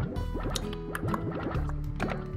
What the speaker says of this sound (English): fill our backpack full of water